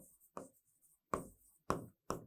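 Pen strokes on paper while a chemistry problem is worked out: a few short, soft scratching bursts with quiet pauses between them, close and faint.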